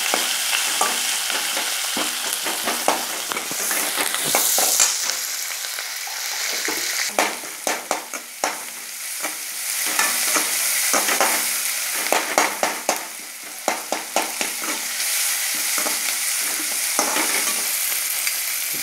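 Curry leaves and onion fry in hot oil for a cauliflower gravy, with a continuous close sizzle broken by repeated scraping and clattering stirs that bunch into quick bursts toward the end.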